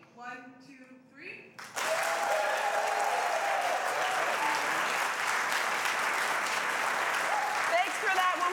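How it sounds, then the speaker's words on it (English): A few people speak briefly, then a television studio audience breaks into sudden, sustained clapping that stays loud and even for several seconds. "We need two more. Two more claps"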